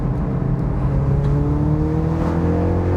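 Car engine revs rising and falling through a rev-matched downshift on the road approaching a corner, loud and close throughout with steady harmonic engine whine and no talking.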